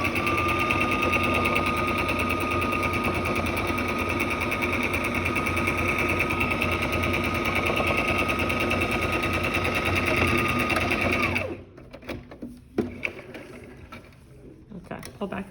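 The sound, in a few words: sewing machine finishing raw edge of home-sewn mask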